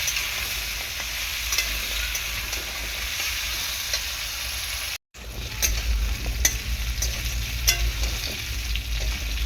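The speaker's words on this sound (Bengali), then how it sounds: "আলু আর এই যে গাজরটাকে ভালো করে ভেজে নিলাম তেলের মধ্যে" Potato and carrot pieces frying in hot oil and stirred, a continuous loud sizzle with occasional scraping strokes, briefly cut out midway before resuming.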